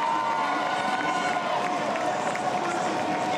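A roadside crowd cheers cyclist Rui Costa up the long finishing straight of Avenue Foch in Gap at a 2013 Tour stage finish, a broad sustained roar with a commentator talking over it.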